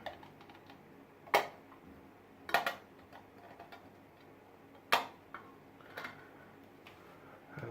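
A lid on a vintage Darwin De Luxe safety razor made of cobalt steel is popped open with a fingernail, giving a few sharp, close clicks and taps spaced apart in a quiet room.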